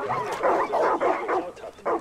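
Several dogs bark in quick, overlapping bursts inside the Far Cry 5 video game, loud and close, with a frantic yapping rhythm throughout.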